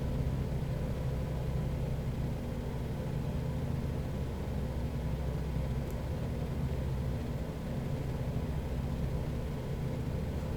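A steady, low droning ultralight aircraft engine in Microsoft Flight Simulator 2020 with throttle slightly reduced during a climb past 2000 feet, a constant muffled rumble and hiss, with no talking over it.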